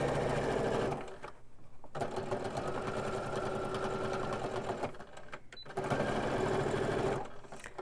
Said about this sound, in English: are just gonna stitch along the bottom and close up this pocket